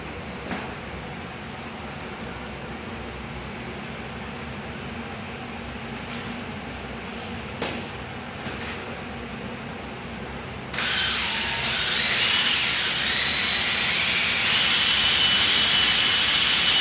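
Two-part epoxy for a flake floor coating being mixed with a powdered thickener by a power drill mixer, a steady motorized whir that jumps louder and brighter partway through and then holds, with no talk.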